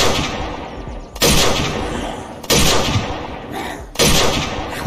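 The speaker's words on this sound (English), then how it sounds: "The Walter WA-100. Damn. That sounds cool. Okay, seems like it's a normal sniper rifle." Walter WA-100 sniper rifle firing in the video game Unturned, with three loud, booming shots spaced about 1.3 seconds apart, each followed by a sustained rumbling tail.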